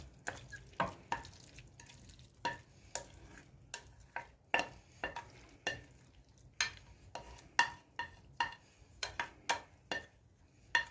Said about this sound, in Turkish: Şimdi karışımımızı tavamıza alalım.